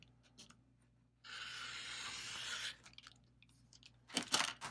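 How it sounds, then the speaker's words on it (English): Scissors or a rotary cutter slicing through folded fabric laid along a ruler for a flange binding, a steady close scraping cut lasting about a second and a half, followed by a few crisp handling rustles. "We're going to make our cut."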